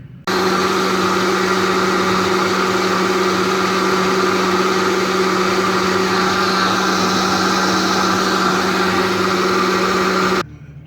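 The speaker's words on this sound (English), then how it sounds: "I'm going to put it back on the blender" A blender motor whirs loudly and steadily for about ten seconds while making raw almond milk, then cuts off abruptly.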